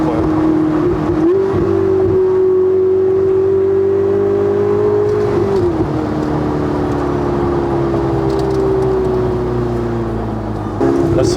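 A Ferrari 488 Spider with a sport exhaust accelerates hard, its engine note climbing steadily through a gear, dipping at a shift and climbing again, loud and close.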